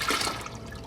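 A 33-ounce container of Goya peach nectar pours in a steady, close splashing stream into a homemade peach moonshine mix, strong at first and easing slightly toward the end, with no talking.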